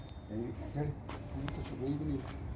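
Soft pigeon coos repeat a few times at close range, mixed with low background murmur and scattered light knocks.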